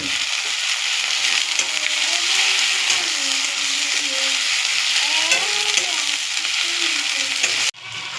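Ginger-garlic and cumin paste frying and being stirred in oil for a prawn malai curry, a loud continuous sizzle with scraping spatula strokes, ending in a sudden cut to quieter sound near the end.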